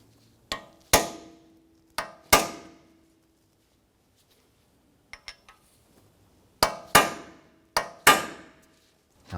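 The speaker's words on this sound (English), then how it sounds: "use a small chisel tip punch, and we're going to dimple the spindle nut into the axle notch here" Sharp metallic hammer strikes on a chisel-tip punch dimple a spindle nut into the axle notch of a 2004–2008 Acura TL, close and loud, coming in paired clangs with ringing decay, several blows separated by quiet pauses.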